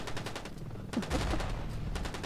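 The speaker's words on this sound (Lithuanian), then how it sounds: "Kam naudot kokį kitą ginklą, jeigu turi šitą shotguną?" Repeated gunfire bursts from a shotgun in the video game Battlefield, loud and close, with rapid overlapping blasts over a steady game background.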